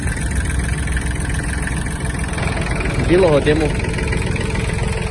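A Japanese Iseki TG-253 mini tractor engine idles with a steady, close, rumbling drone that stays even throughout, while someone talks briefly over it.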